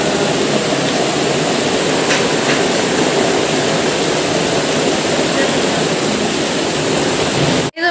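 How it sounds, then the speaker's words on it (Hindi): A steady, loud wash of heavy rain, dense and continuous, with a brief sharp break right at the end. "बहुत ज़ोर से बारिश आ रही है आज"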